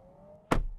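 BMW i7 automatic door closing after a button press: a quiet electric hum, then a single solid thud as the door shuts, followed by a brief low rumble.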